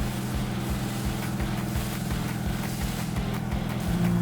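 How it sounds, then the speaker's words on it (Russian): Car engine of a Quadra V-Tech replica from Cyberpunk 2077 idling smoothly and steadily: a loud, close, continuous low hum with even pulsing and no misfires, alone without talk. "Двигатель работает как и раньше, ровно без сбоев."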